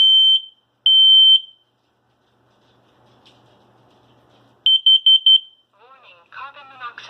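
A smoke detector under test lets out loud, piercing beeps: two long tones, a pause, then a rapid burst of short pulses, followed by a person speaking briefly.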